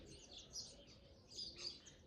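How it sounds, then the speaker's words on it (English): Birds sing outdoors in a spring setting, bright chirping phrases repeating at moderate distance over a soft, steady background hush, with no voices. "Those birds. Amazing. Beautiful song."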